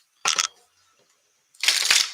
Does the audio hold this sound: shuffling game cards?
yes